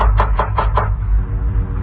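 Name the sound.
knocking at a door, radio drama sound effect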